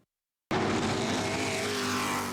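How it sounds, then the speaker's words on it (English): Race car engines roar at Kalamazoo Speedway, bursting in loudly after a brief silence and holding a steady, dense, continuous drone close by. "Between the roaring of the engines and the changing of tires, the chaos of a racetrack"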